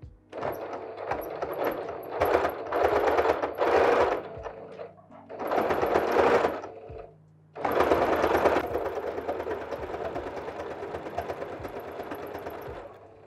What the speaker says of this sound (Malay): teruskan jahitan sampai habis